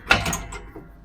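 A short metallic clack and slide as the pin is pulled from a horse trailer jack, one sharp close impact followed by a brief scraping rattle.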